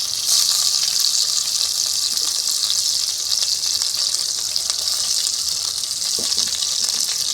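Dried prawns fry in a hot pan for a prawn, tomato and egg chilli dish, giving a continuous loud, hissing sizzle with faint crackles throughout, and no talk.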